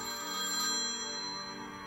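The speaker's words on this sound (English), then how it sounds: "We were awakened by the phone ringing" A telephone rings inside a family home early on a Sunday morning in 1982 in Des Moines, Iowa. Its steady electronic ring sounds clear and fairly close, with no voices.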